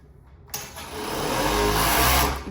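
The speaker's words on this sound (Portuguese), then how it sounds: "passa overlock" An overlock serger stitches a cropped top of suplex fabric, its motor starting abruptly and then running as a steady, fast mechanical whir that builds slightly in loudness, close up with no talking.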